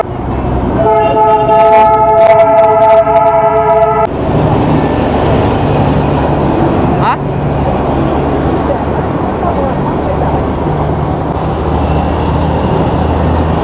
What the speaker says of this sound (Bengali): দার্জিলিং টয় ট্রেনকে আমরা ক্রস করছি, যেটা এনজিপি থেকে আসছে।